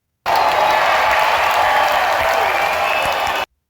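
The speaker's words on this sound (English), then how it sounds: "I'm going to look in my concert applause." Concert applause, a dense, steady wash of many hands clapping with faint cheering, loud and continuous from start to finish before cutting off abruptly.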